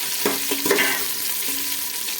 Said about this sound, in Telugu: స్పైసెస్ అయితే వేసేసుకొని ఇవైతే మంచిగా అయితే ఫ్రై అయ్యేలా కలుపుకోవాలి.